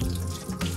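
Tap water pours steadily into a kitchen sink as strained udon noodles are rinsed, a continuous close splashing rush with slight flutter and no talk.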